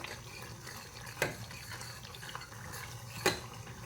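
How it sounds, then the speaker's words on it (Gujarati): Masala is stirred slowly in a pan with a soft, steady scraping sizzle. Two brighter utensil clinks stand out against the pan, and no one speaks. "ધીરે ધીરે મિક્સ કરતા જઈએ"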